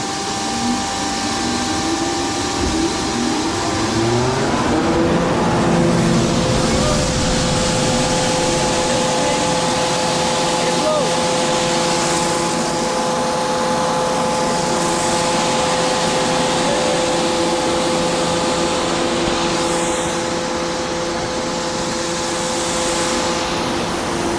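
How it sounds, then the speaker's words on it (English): Snow-making machine in a backyard park blowing a steady, loud rush of air, joined after a few seconds by a fan whose hum and whine settle into a constant drone. "You hear the airflow, and then the fan."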